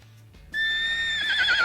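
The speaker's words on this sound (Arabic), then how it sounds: "حصان" A horse neighs once in a sharp, high, wavering whinny that rises suddenly after a brief quiet start and stays loud and close to the end.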